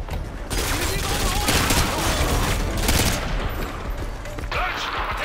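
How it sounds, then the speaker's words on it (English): Heavy militia gunfire rattles through Call of Duty: Modern Warfare 2, dense bursts of automatic fire and booms overlapping continuously and loudly, with voices heard in the mix. "we're taking heavy fire from the militia here"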